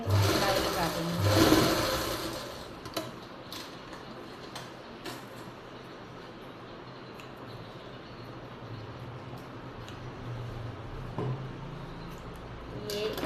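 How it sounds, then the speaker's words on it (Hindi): A sewing machine stitching a heavy palazzo in a boutique runs in a steady, fast ticking whir at moderate loudness, with a brief louder burst of handling near the start. "यहाँ पर फोल्ड करके सिलाई लगा देंगे।"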